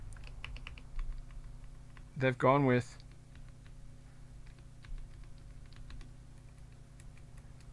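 Scattered light clacks come from typing on a Feker Alice80 mechanical keyboard with Panda switches and mushy stabilized large keys, with a brief spoken phrase in the middle.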